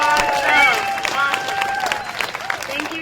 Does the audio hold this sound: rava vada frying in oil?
no